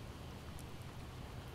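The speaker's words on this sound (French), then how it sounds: "Ah, il pleut." Rain falling in the video game Project Zomboid, a soft, even patter and hiss that stays faint and unbroken throughout.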